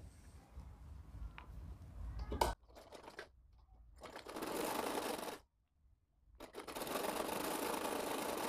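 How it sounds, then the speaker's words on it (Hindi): An electric sewing machine runs basting stitches on a layer of a party-wear frock, whirring in several bursts of varying length separated by short pauses and near-silent gaps, fairly close and with no talk. "यहाँ से ऊपर की तरफ से इस पर कच्ची सिलाई लगाएंगे"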